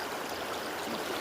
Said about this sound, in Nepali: खोला हेर्नुहोस् न कत्रो ठुलो छ खोला